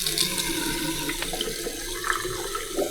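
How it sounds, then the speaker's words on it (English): Water pours steadily from a bath tap in a low-rated British hotel room, a continuous close hiss and splash with faint gurgling from the bath plug, no voices. "That water is running,"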